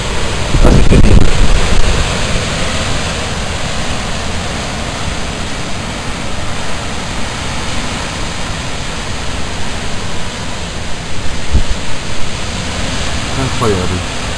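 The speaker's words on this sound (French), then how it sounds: "Le vent est terrible." Strong wind gusting through a July evening thunderstorm, a loud, steady broadband roar with heavy buffeting on the microphone near the start and again around the twelfth second.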